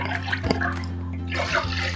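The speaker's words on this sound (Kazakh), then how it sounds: "Ол үшін кішкене мұздай су құйып аламын." Ice-cold water is poured into warmed milk in a kitchen while making dough for flaky layered flatbread. Soft splashing and trickling sit over a steady low electrical hum, with a few brief clinks and no talking.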